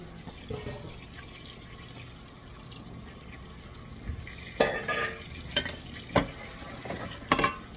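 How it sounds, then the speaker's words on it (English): Vegetables hit melted butter in a pan for a tuna casserole, giving a soft steady sizzle under stirring and the clatter of kitchen tools, with several sharp scrapes and knocks near the end. "Butter's melted. I'm putting the vegetables in now."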